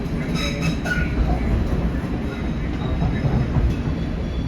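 MetroLink light rail train riding its original 1993 line, a loud steady rumble of wheels on track with faint high squeals and clicks, heard from inside the car with no talk.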